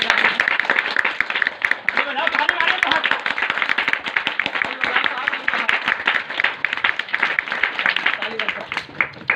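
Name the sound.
audience clapping at a street magic show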